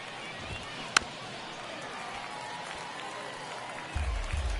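Stadium crowd murmuring in a ninth-inning baseball video game, a continuous roar with a sharp crack near the start and a rise toward the end.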